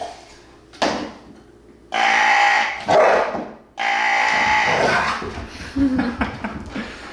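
A dog barks in excited bursts, several loud, close yaps and bow-wows with short pauses between, ending in softer yips.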